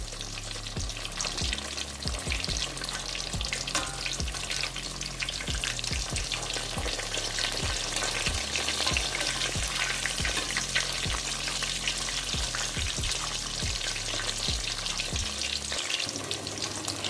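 Fish fries in a pan with a dense, steady sizzle and crackle, broken by regular knocks and scrapes of a utensil against the pan.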